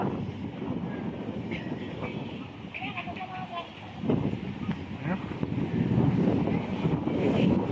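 Strong gusting wind buffets an open outdoor spot near water where tilapia are caught by hand, a steady rushing roar that swells louder toward the end, with voices talking faintly underneath.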